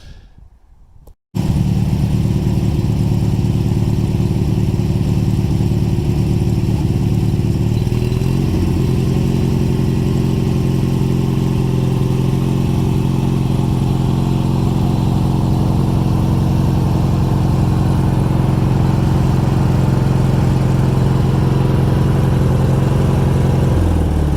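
A riding lawnmower engine starts up and runs loud and close, a steady rumbling drone that shifts in pitch partway through as the mower is driven up onto boards, continuing without a break.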